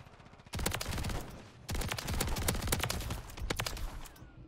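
Rapid bursts from the Haymaker shotgun in Modern Warfare 3, fired in three loud sustained volleys of fast repeated blasts with short gaps between them, close and dominant with no talk.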